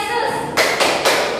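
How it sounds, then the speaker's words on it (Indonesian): Children at a church Sunday school service for Palm Sunday clap their hands three times in quick succession. The claps are sharp, even and close, over a faint background. "Tepuk tangan Yesus."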